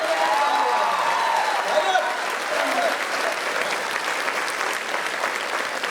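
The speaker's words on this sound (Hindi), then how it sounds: "ताली बजाइए, एक एक करके दोनों हाथ" Audience clapping at a comedy show, a steady full-room applause sustained throughout, with voices faintly audible within it.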